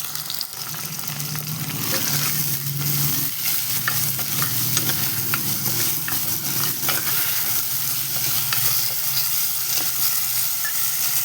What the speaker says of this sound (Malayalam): നല്ലോണം ഇളക്കിയെടുക്കാം.